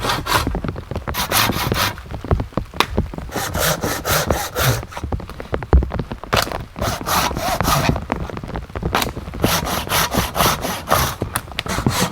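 A Silky Katana Boy 500 hand saw cuts through wood outdoors, its long steady strokes rasping back and forth in a continuous rhythm, close and loud with no pauses.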